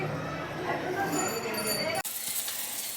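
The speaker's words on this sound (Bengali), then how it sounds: "এখন আমি উচ্ছে ভাজা করছি" Chunks of bitter gourd fry in a pan for uchhe bhaja with a steady crackling sizzle and a person talking, then the sound cuts off abruptly partway through.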